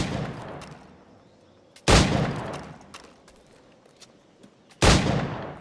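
Two loud gunshots from Assassin's Creed IV: Black Flag target practice, a few seconds apart, each followed by a long echoing decay over faint background ambience.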